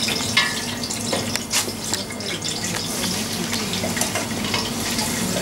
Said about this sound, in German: Den Knoblauch lassen wir ein bisschen angehen.